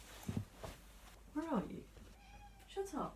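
A cat meows several times, rising and falling calls close by, with a person speaking briefly between the meows.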